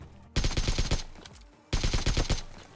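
Two loud, sustained bursts of rapid automatic gunfire from a video game battle as enemies are finished off, each burst lasting about half a second to a second with a brief gap between them.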